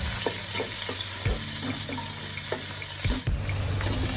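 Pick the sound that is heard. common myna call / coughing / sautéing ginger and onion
sautéing ginger and onion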